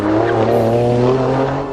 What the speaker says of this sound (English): we're driving the Stelvio Quadrifoglio